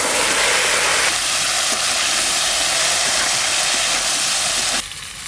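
Five-spice seeds, chilies and bay leaf sizzle in hot oil, a loud, steady broadband hiss that holds for about five seconds before dropping off sharply.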